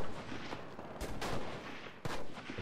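Semi-automatic sniper rifle gunfire in the Enlisted video game, a few heavy sharp shots spaced about a second apart over dense battlefield noise.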